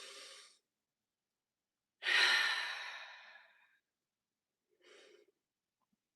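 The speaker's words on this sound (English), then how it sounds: "I'm going to take a deep breath." A person takes slow, deep breaths during a calming self-regulation moment, with a long audible exhale in the middle flanked by two shorter, softer breaths, close and quiet with nothing else around.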